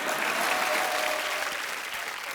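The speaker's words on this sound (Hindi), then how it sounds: "वो आलिया के लिए ताली बजा दो जो बोला उन्होंने" A studio audience claps loudly and steadily at a Holi special comedy TV show, a dense, sustained burst of applause with no talk over it.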